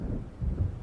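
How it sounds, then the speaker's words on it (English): Low, rumbling thunder of an approaching storm in the video game Alan Wake, a brief muffled roll that swells slightly midway, heard alone without voices. "It seems there's a storm coming."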